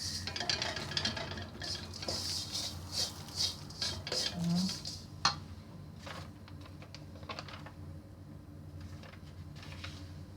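Scraping and clinking of a utensil stirring spices sautéing in a pan for chicken rendang, busy for several seconds before trailing off into a low background hum.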